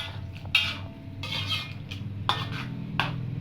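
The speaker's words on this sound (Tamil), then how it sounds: "விடாமல் கிண்டணும், இல்லைன்னா அடி பிடிக்கும்" A spoon or ladle scrapes and knocks in a pan while stirring a thickening sago laddu mixture, giving irregular close clinks and scraping strokes over a soft background rumble, with no voices.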